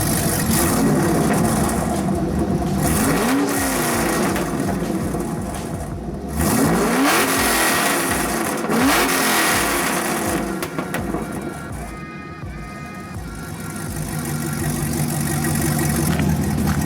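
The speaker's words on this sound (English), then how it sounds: "I'll let it warm up, I'll give it some revs." A 2012 Camaro SS engine idles after a cold start and repeatedly revs up and falls back, rising and dropping in pitch, loud and close throughout.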